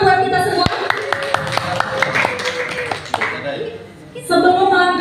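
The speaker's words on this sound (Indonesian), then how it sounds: "Tepuk tangan buat kita semua." Rhythmic group clapping from participants at a teacher-training workshop, sharp claps in a steady pattern mixed with voices chanting or singing along, then talking resumes near the end.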